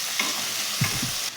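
Chopped tomatoes being stirred into a sizzling drumstick flower curry, a steady frying hiss broken by a couple of close spoon scrapes, with no voices.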